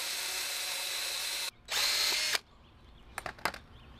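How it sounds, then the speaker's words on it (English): A power drill bores into wood in bursts, the steady whine cutting off sharply, returning louder for under a second, then stopping, followed by a few faint handling clicks and knocks. "I'm kind of just going in circles a little bit with this drill to help eat"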